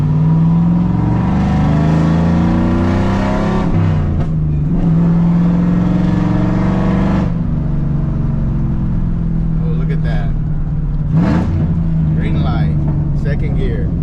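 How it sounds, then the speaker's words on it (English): A Chevrolet Silverado with a five-speed manual and cold air intake pulls away in second gear, its engine droning loud and steady and rising in pitch as it accelerates, with someone talking over it. "All right, let's see. Taking off in second gear."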